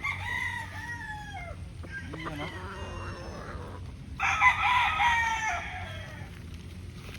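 A Pure Possum broodstag rooster crows nearby, a long rising-and-falling call, followed by a second loud crow, with faint outdoor background noise and a brief spoken remark.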